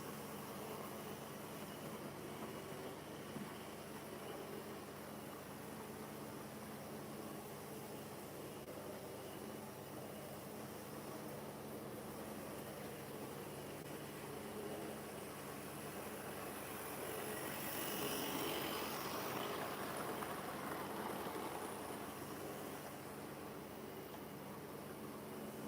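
A Hornby Class 35 model locomotive runs with its loud engine sound, a steady droning rumble that holds for a long stretch and swells slightly toward the end, with no talking.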